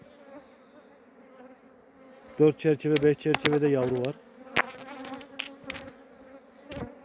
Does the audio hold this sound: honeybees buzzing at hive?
yes